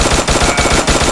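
Rapid automatic gunfire in Free Fire mobile, loud and continuous bursts of rattling shots in a steady rhythm, with no talking.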